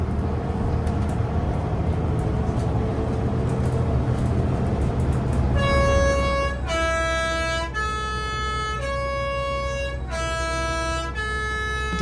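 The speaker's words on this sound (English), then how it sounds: "The typical post bus sound comes from a 3-tone horn with an electronic compressor." A Swiss post bus in the Jungfrau Region sounds its three-tone horn, driven by an electronic compressor, over a steady road rumble. Loud, close melodic blasts begin midway and repeat several times in a rising-and-falling pattern.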